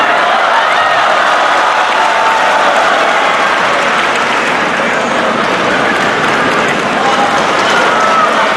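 A large arena crowd at a 2014 ITTF China Open men's singles table tennis final applauds loudly and steadily as a ball boy dashes across the floor, a dense, continuous roar of clapping throughout.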